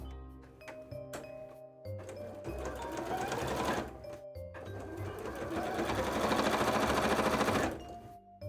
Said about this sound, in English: Which is just to fold it to one side and sew it down.